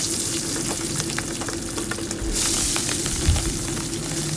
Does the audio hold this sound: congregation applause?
no